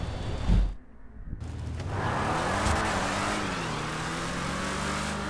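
A car drives in GTA V with a loud, close engine drone whose pitch rises and sways as it accelerates, after a brief early dip and a short quiet gap.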